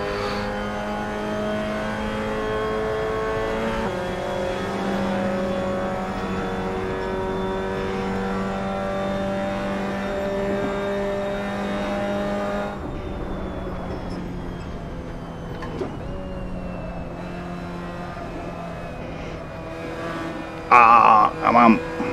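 Car engine droning steadily with shifting pitch as it is driven hard around corners on track, continuous and fairly loud, dropping in tone midway with a brief louder burst near the end.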